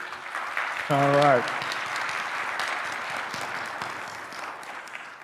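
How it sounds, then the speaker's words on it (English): Audience at a U.S. Senate Democratic primary debate on a university campus gives brief applause, a dense steady wash of clapping from a crowd that fades gradually, with someone speaking briefly over it near the start. "Brief applause for your school, real quick."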